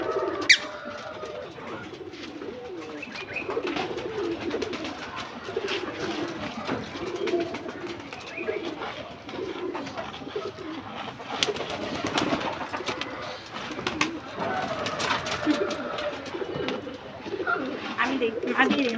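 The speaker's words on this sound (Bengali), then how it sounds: "ফিলজা কবুতরকে খাবার দিচ্ছ" Pigeons coo in soft repeated bursts on a village rooftop during feeding, moderately close, while people talk intermittently over the flock.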